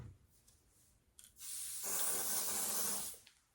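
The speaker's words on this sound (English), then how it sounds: "We're going to spray." A spray bottle mists onto a blonde loose wave lace closure wig in one long continuous hiss lasting well over a second, close and fairly loud, with a brief quieter spritz just before it.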